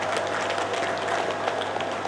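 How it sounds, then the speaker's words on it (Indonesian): Applause from an audience at a product auction event in Bandar Lampung: a steady, dense wash of clapping that holds at an even level throughout, with a faint low hum underneath. "kita apresiasi dan tepuk tangan dulu untuk Pak Wali"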